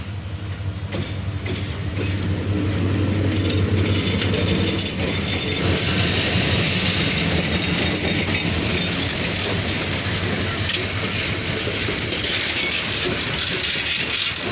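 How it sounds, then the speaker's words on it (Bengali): Rangpur Express train 772 hauled by an American-built 3000 series diesel locomotive, passing near Natore station: loud, steady rumble of rolling railcars with clattering wheels and squeal, continuous throughout with no talk. "3000 সিরিজের লোকোমোটিভ শর্ট রুটে নিয়ে আসতেছে 30-16 আমেরিকান জায়ান্ট 772 রংপুর এক্সপ্রেস ট্রেনটি"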